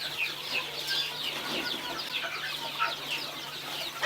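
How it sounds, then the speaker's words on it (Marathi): Young chicks kept together under a brooder light on a village farm cheep and chirp continuously, small high peeps layered close by with no voices over them. "कोंबड्यांची पिल्लं आहेत."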